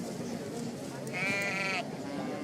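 Sheep bleating at a pen in the video game I Am Jesus Christ: one drawn-out, wavering bleat rises midway through over a steady bed of ambient game noise.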